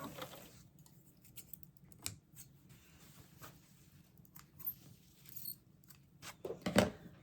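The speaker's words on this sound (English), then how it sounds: "then I'll cut those threads" Scissors snip through threads on sewn fabric pieces in a series of small, quiet, irregular clicks and cuts, close by, with a slightly louder cluster near the end.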